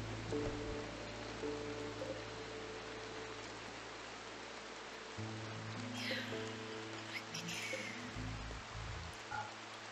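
Steady broadband hiss of rain in the Spider Colony video game, falling continuously under low game music tones, with brief higher splashy sweeps near the middle and end.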